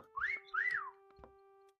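Two rising-and-falling whistle calls sound in quick succession in the video game Meccha Chameleon, clear and fairly close over a steady background tone, followed by a faint click.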